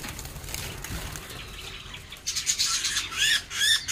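A female budgerigar held in one hand lets out harsh, close squawks in bursts toward the end, with faint rustling and handling noise before them.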